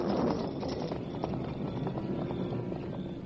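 A paint horse is ridden along as a storm closes in, its hooves clip-clopping in a steady, fairly close rhythm under wind noise, with no talking.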